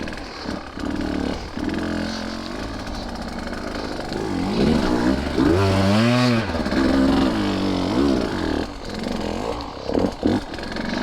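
2023 Husqvarna TE150 two-stroke dirt bike ridden slowly on single track, its buzzing engine loud and close throughout, pitch rising and falling with gentle throttle blips and a brief rev in the middle.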